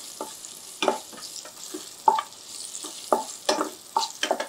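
Garlic sautéing in a pan with light sizzling, broken by intermittent spoon taps and scrapes at irregular intervals, fairly close and moderately quiet.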